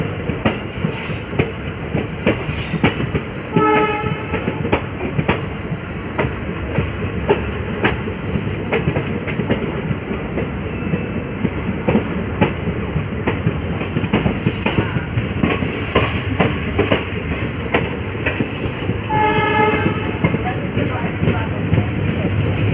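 The Prayag Bareilly Jaunpur Express rolls along with rhythmic clickety-clack of wheels over rail joints and steady rumble, a few squeals rising above, people talking faintly underneath.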